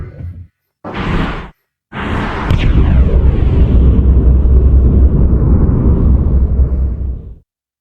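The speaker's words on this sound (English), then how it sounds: "Preparing for thruster ignition." A spacecraft thruster ignites in a video game, beginning with two short bursts and then swelling into a loud, sustained roaring whoosh that holds steady for about five seconds before cutting off abruptly.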